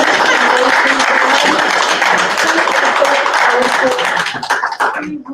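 An audience at a kindness conference in New York gives a round of applause, a dense wash of clapping close and loud that tapers off near the end, with some voices mixed in.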